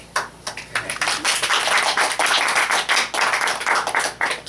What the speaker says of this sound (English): with applause, Todd May.